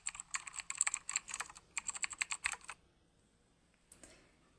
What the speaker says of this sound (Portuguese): E vai botar aqui, digitando o teclado.